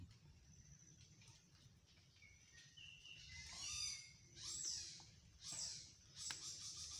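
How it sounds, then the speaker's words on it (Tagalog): Several faint bird calls, short chirps and whistles, ring out over a quiet outdoor background, growing more frequent toward the end. "huni ng ibon"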